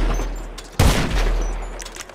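Sniper fire with explosive rounds in GTA Online: one sharp, loud blast lands about a second in, then a long rumbling decay trails off under faint background ambience.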